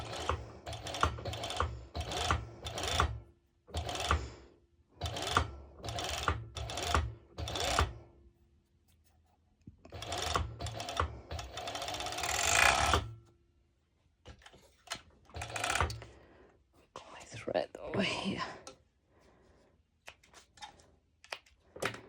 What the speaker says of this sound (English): now I'm going directly to my overlocker